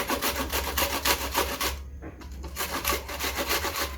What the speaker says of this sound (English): now I am going to take the one white onion I had, and I think I'm gonna grate it in here